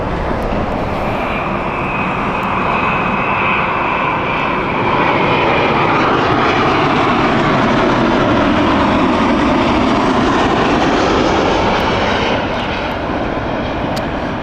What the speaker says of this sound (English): British Airways 787 inbound next